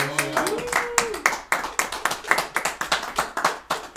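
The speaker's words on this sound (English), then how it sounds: "Let's give him a round of applause." A small group claps for a champion during a gaming league's hot-wings challenge, producing sharp, uneven hand claps in a loose rhythm, with a brief voice at the start.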